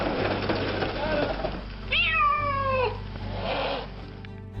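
A rescued cat meows in a long, drawn-out cry near the middle, with fainter meows around it, over a steady low engine-like hum and some background voices.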